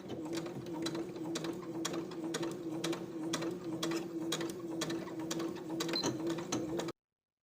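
A sewing machine edge stitching fabric, running at a steady even pace with a continuous mechanical whir and rapid needle ticks, close and alone, stopping abruptly at the end.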